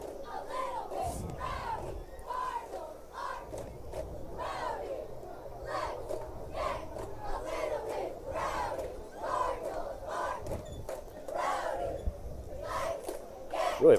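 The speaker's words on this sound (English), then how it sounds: "Really nice crowd on hand." A crowd at a high school varsity football game between Crete and Lexington chants and yells in rhythmic bursts, with a full student section and band on hand, and voices mixed through the steady roar.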